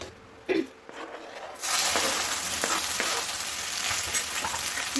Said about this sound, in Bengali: মধ্যে এখন দিয়ে দেবো জিরে তেজপাতা আর শুকনো লঙ্কা